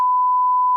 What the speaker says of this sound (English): goofy, boofy, battery-operated timer